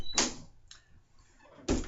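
A door with a newly fitted doorknob swings and closes, a soft thump, a faint latch click midway, then a firm solid shut, close by in a quiet room.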